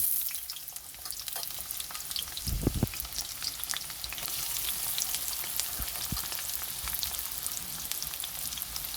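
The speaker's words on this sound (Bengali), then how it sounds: "এই যে এদিকে তেল দিয়ে দিয়েছি, তারপর পেঁয়াজটা দিয়ে দেবো।" Onions frying in oil in a kadai, a steady dense crackle and sizzle filling the whole stretch, with one low thump early on, no voices.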